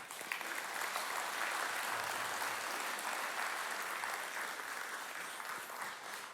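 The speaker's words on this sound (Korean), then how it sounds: "한번 일어서서 뜨거운 박수 받아주세요." A church congregation at Sunday worship gives a sustained round of applause, a dense, even wash of clapping from a large room, moderately distant and steady for several seconds.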